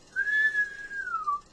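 A person who cannot really whistle attempts it: a single thin, wavering whistle tone, slightly rising then gliding downward, about a second long, reasonably clear and close.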